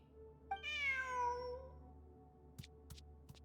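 A video game cat gives a single clear, rising and falling meow over a low ambient hum, followed by a few soft clicks, in a Genshin Impact Sumeru event scene.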